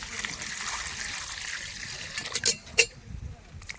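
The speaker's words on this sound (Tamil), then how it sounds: "இந்த கருவாட்டை கழுவிக்கலாம்" Water splashes as dried fish is washed by hand in a pot inside a mud hut kitchen, a soft running wash broken by two sharp splashes near the end.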